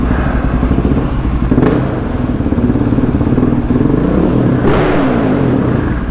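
Husqvarna 701 Supermoto with a loud exhaust thumps in a close, echoing multistorey car park, its single-cylinder idle pulsing steadily with two short revs blipping above it.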